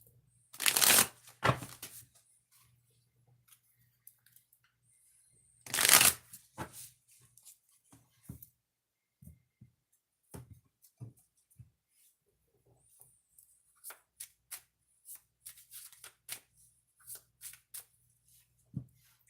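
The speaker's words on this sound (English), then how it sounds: "I got to shuffle twice, okay?" Cards are riffle-shuffled twice in quick bursts, followed by soft scattered taps and card handling, close and quiet.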